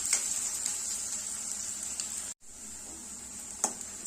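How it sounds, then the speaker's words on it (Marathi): Garlic and onion sauté in a pan with a steady, close, hissing sizzle, a brief silent gap halfway through, and a few soft stirring clicks. "त्याचप्रमाणे घातलेलं लसूण, कांदा, कांदा थोडासा ट्रान्सपरंट होईपर्यंत आपल्याला हा परतून घ्यायचा आहे।"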